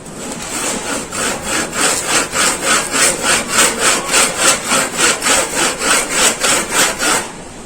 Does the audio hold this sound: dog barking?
no